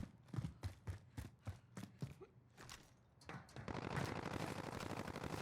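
Gunshots in Call of Duty Warzone solos: a quick run of single shots in a steady rhythm, then a denser, louder stretch of rapid automatic fire, moderately close.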